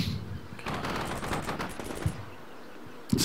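Air strike fire raking a tank in Combat Mission Shock Force, a dense, sustained burst of rapid machine-gun-like rattling over about two seconds, with a few sharper thumps trailing off afterward.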